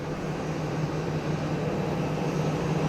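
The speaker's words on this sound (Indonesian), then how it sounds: "What makes it special is it's a 4-engine turboprop airplane." A steady, loud drone from a Royal Canadian Air Force CP-140 Aurora, a four-engine turboprop airplane, holds as a continuous roar with a constant low propeller hum throughout, with no talk.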